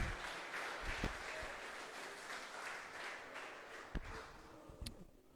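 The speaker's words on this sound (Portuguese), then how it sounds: "Você pode aplaudir o Senhor" A church congregation claps in a quiet, diffuse wash of applause heard from a distance, with a few sharper taps and knocks standing out near the end.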